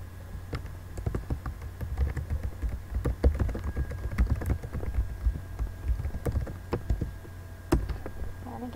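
Someone types on a computer keyboard, close by and alone, with irregular bursts of crisp key taps and occasional heavier thumps, as if hitting the space bar.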